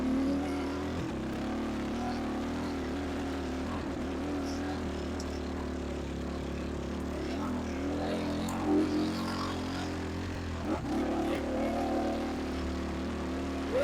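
Steady droning engine of a car gaining speed in the gears, heard from inside with a low constant rumble and a slowly shifting tone throughout.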